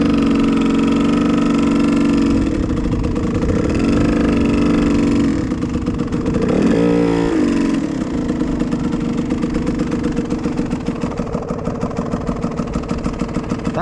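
A learner's motorcycle engine runs steadily, then its note rises and wavers as the throttle is eased open. It is loud, close and continuous, with no talking.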